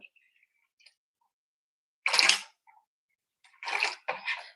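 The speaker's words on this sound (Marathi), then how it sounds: "थोडस मी पाणी घालते अजून एक पेलाभर मी पाणी घातलेले अजून थोडस घालते हे मिक्स करायचंय" Water is poured into a thick rice flour batter for ghavane and then mixed. Three short splashy bursts stand out from near silence, with a few faint clicks in between.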